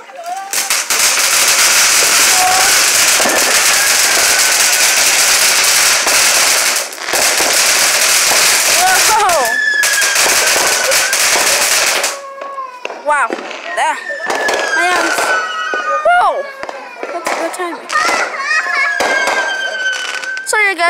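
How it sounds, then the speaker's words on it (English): Fireworks and firecrackers burst in dense, loud crackling volleys for about twelve seconds, then scattered pops and whistling rockets follow, with people talking and reacting over the barrage. "if you are doing fireworks, come on"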